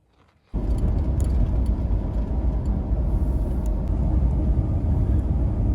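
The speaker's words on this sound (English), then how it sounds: "Oh, traffic on Salt Spring." A steady, heavy rumble of traffic passing on a road on Salt Spring Island after days of heavy rain starts abruptly from near silence and holds an even, moderately loud drone to the end.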